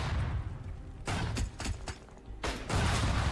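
Video game gunfire in Tastee Lethal Tactics, sharp bursts of rapid shots and thuds that come in several clusters with short quiet gaps between them.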